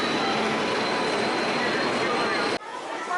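A night train at a busy station in India gives a loud, dense roar of rolling rail noise, steady and close throughout, then drops sharply near the end.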